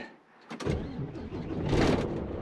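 A 2005 Volvo FH16 truck engine cranks with a sharp mechanical clunk and catches at once, rising into a steady close diesel rumble.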